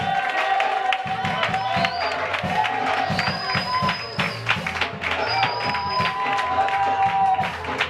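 A crowd cheers and claps for an engaged couple, a steady wash of applause and voices with occasional whoops, while talk and some background music carry on underneath.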